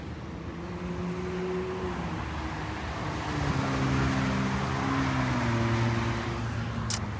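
A 2023 Toyota Highlander XLE AWD with 39,000 miles hums along on the road, a steady engine and road drone heard from inside the cabin with slowly shifting tones and no talking.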